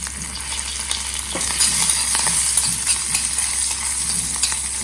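Spice tempering (vaghar) with curry leaves and green chilies crackles and sizzles steadily in a hot pan, with scraping stirs and occasional sharp pops close up, no talking over it.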